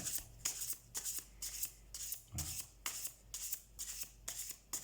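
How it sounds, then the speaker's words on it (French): Oracle cards of an animal-spirit deck are shuffled by hand in a steady, repeated riffling rhythm, about ten close, papery bursts in a row with no voices. "Je vais tirer une seule carte en guise de conclusion."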